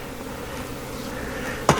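Honey bees from a salvaged colony buzz steadily in a dense, close drone around the open hive, with a sharp knock or bump near the end.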